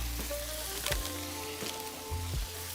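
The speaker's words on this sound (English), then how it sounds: "I'm gonna go ahead and put a stick of butter right here." A stick of butter melting and sizzling on a hot griddle for Cajun fried rice, a steady crackling hiss broken by a few dull knocks and scrapes of a utensil, with no talking.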